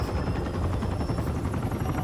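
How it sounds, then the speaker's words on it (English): Helicopter in the video game Mirror's Edge Catalyst, a steady rhythmic rotor thump with a droning whine, loud and continuous, with no talk. "I feel like that helicopter is right out of Deus Ex."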